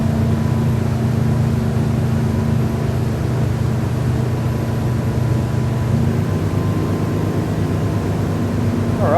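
A motorboat engine runs steadily at 2,900 revs while the boat cruises at about 26 knots, a loud continuous drone with a constant low hum and no voices.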